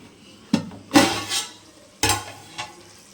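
A spoon stirs biryani in a covered pot, making a few short metallic clanks and scrapes against the pan with soft sizzling in between, close and fairly loud.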